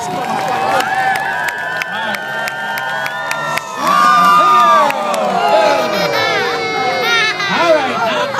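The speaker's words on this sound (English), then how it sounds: "Send him off with a good deal of applause." A fair crowd at a freestyle motocross show cheers and shouts for a rider, with loud sustained whoops and children's voices. The noise swells mid-clip over a continuous background of voices.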